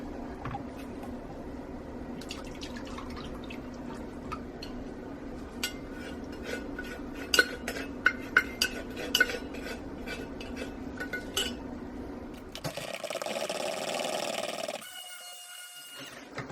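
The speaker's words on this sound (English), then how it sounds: "I'm going to add the lye and just blend to emulsification" Lye goes into soap oils for cold process soap. Light clinks and stirring of utensils against a container lead into a short, steady whir of a stick blender, close by and fairly quiet.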